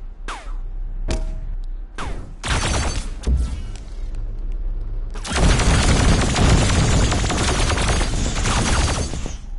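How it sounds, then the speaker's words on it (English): Gunfire in the PSVR shooter Sabre VR: several separate sharp shots, then a long sustained burst of rapid, loud automatic fire filling the second half, with no talk. "my gun is firing"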